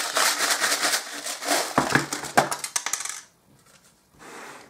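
Small charms dropped onto a table in a quick cluster of bright, clinking metallic taps, close and loud, then falling away to near silence.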